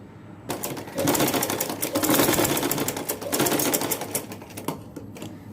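Domestic sewing machine stitching ruffles onto a baby frock, a rapid rattling run of needle strokes that starts after a short pause, holds steady for several seconds, then tapers with a few last clicks.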